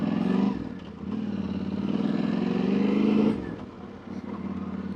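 A motorcycle is ridden on a wet road in cold weather, its engine humming steadily up close with rising and falling revs and a hiss of tires and wind, and no talking.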